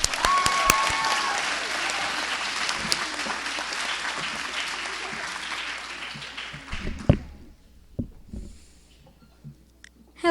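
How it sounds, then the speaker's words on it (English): An audience at a raspberry festival coronation ceremony claps in a dense, sustained round of applause that fades out after about seven seconds, followed by a few scattered claps and quiet room noise. "Let's give Trudy and Jim a round of applause."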